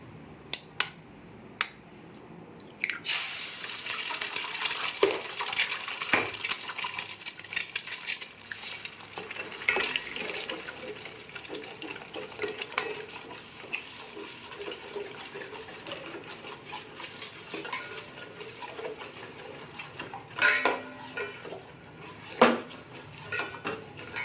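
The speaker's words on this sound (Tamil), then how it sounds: "நம்ம இதில் 5 முட்டை உடச்சி ஊற்றிருக்கோம். இனி இது வந்து நல்லா கிண்டி எடுக்கணும்." Five eggs cracked into a hot oiled pan for chicken fried rice and stirred, with loud clattering metal utensil scrapes and knocks against the pan over a faint fry, close and busy throughout.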